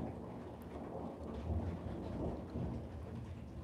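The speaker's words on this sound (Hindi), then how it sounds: "सर्दियों की पहली बारिश शुरू हो चुकी है।" Steady rain falls during the first winter rain, a continuous low rumbling wash with rolling thunder-like swells, heard alone without voices.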